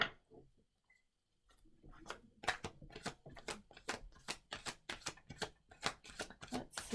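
Tarot cards riffle and flick in a close, quiet shuffle, a fast run of crisp papery snaps following a brief silence, with no voices.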